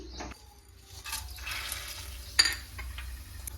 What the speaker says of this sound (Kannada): ಸೊ ಫಸ್ಟ್ ನಾನು ಇದನ್ನೇ ಎಣ್ಣೆ ಒಳಗಡೆ ಹಾಕೊಳ್ತೀನಿ.